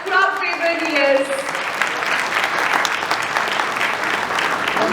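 An audience bursts into loud, sustained applause for Rana at an inclusivity celebration held by Future Generali India Insurance, a dense steady clapping that follows a brief tonal musical sting at the start.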